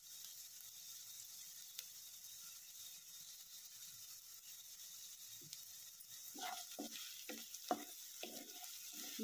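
Onions frying with salt in a pan, a faint, quiet sizzle that picks up near the end with a few close stirring scrapes, no voices over it.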